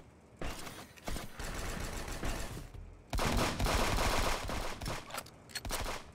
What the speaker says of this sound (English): We have to spam our pistols when they're like this wall cover.